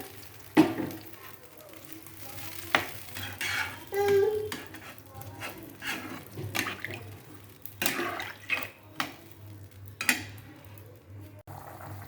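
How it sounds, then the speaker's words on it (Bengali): Water being poured into curry cooking in a pan, heard as close splashing and sloshing mixed with clinks of utensils and pots and brief pauses, with some speech in the background. "তরকারিতে জলটা দিই।"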